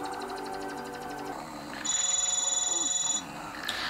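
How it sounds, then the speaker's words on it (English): A cartoon telephone rings with a bright, repeated electronic trill that sits loud over a soft music bed for about a second and a half, then stops. "I was right, that is his phone."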